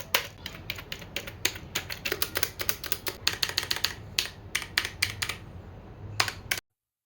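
Keys clacking on a mechanical keyboard and a normal computer keyboard, heard as close, uneven bursts of sharp clicks with short pauses, ending abruptly in silence.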